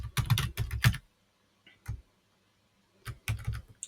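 Quick bursts of typing on a computer keyboard, two clusters of rapid key clicks separated by a pause with a single stray tap, close and clear with no talking.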